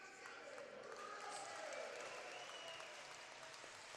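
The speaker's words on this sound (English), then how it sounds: "a hearty cheer from the fans as they welcome their captain and their assistant captains to the ice" Fans at an ice hockey game cheer and applaud in a steady wash of distant crowd noise that swells briefly in the middle, with an announcer's voice faintly underneath.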